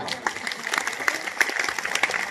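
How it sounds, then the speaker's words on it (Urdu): A crowd at an education conference in Akola breaks into loud applause, a dense continuous clatter of clapping with a few sharper peaks. "زوردار تالیاں یہاں پر"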